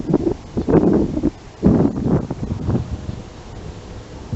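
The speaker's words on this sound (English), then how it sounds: "There's the wind." Wind on a windy morning outdoors buffets the microphone in gusty rumbling bursts that rise and fall, loud and close with no voices.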